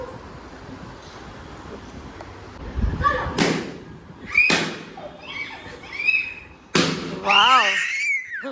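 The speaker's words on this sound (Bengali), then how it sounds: "ও বেচারা এত এক্সাইটেড ছিল ওই পার্টি ব্লাস্ট ফাটাবে" Party poppers bursting at a home birthday celebration, a few sharp close pops separated by pauses, with voices and crinkly rustling around them.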